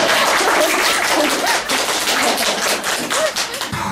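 A studio audience applauds with dense, steady clapping that stays loud throughout and then tapers slightly near the end.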